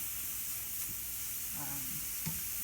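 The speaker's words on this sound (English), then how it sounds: "I'm just giving it a quick saute on a fairly high heat. with no oil." Broccoli sautes in a pan over fairly high heat with no oil, giving a steady close hiss and sizzle with a couple of brief stirring knocks.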